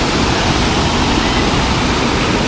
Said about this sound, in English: Look how beautiful this river is.